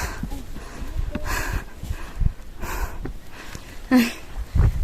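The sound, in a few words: heavy panting, out of breath while hiking uphill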